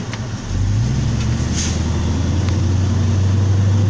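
A truck on the road, its engine holding a steady low drone that swells in after a brief quieter start and stays loud and close, with faint clicks and a short hiss over it.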